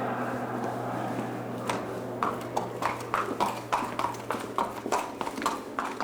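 A mare walks on a hard surface, her hooves clip-clopping in a steady, increasingly distinct rhythm after a quiet start, close by against a low background hum.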